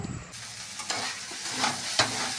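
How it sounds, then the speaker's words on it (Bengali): Yardlong beans, potato and tomato fry in a pan, a soft continuous sizzle with a few stirring scrapes over a short stretch, no talking. "এই দিয়ে আমি আজকে এটাকে ভাজা করব"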